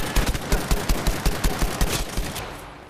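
Rapid automatic gunfire in Battlefield V on Xbox One, a dozen or so sharp, evenly spaced shots in a loud close burst that tapers off into a fading tail.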